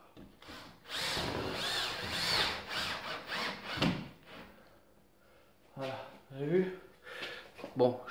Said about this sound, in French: je vais visser la partie haute.